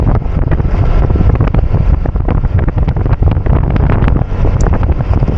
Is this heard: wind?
yes